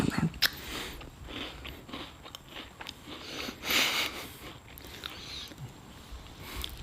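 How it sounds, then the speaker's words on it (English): Someone chewing a very thin cookie close to a sensitive microphone, giving soft, steady crunching and mouth noises with small bites throughout, quiet and intimate. "they're going to be watching the beginning of this video with just you chewing on a cookie"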